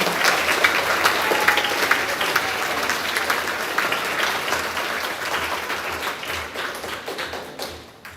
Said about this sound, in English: one more round of applause for Mrs. Carell's homeroom.